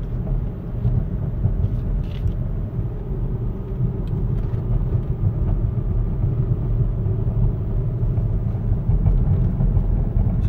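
A 2007 Mercedes-Benz GL450 SUV on the road, heard as a steady low engine and road rumble from inside the cabin, continuous and even throughout with no talking.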